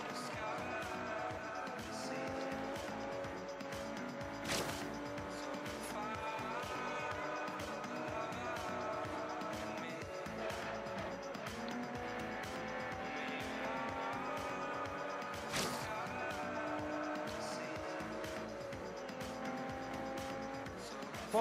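A Toyota Supra races at full throttle in Forza Horizon 2, engine howling and shifting through gears with repeated tire squeals and skids, a couple of sharp impacts, loud and continuous throughout.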